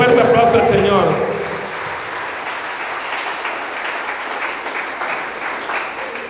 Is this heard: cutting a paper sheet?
no